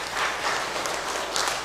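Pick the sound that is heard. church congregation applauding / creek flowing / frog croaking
church congregation applauding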